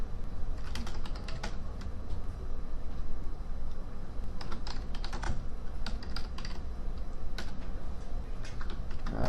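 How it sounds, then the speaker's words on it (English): Continuous rapid typing on a computer keyboard fills the whole stretch, dense clicky keystrokes at close range with no voice over them. "We're just typing in bullet points."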